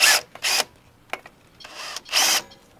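Several short, loud bursts from a power drill on a catamaran, each lasting a fraction of a second and separated by brief pauses, heard up close.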